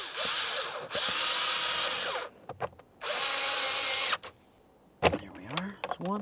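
A power drill drives screws into a Mitsubishi Lancer's interior panel in loud, close whirring bursts, some long and some short, broken by brief pauses and clicks, with a speaker talking in between.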